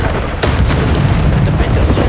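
Bombarda explosion spell cast in Hogwarts Legacy: one loud booming blast that rolls on as a dense, sustained rumble to the end.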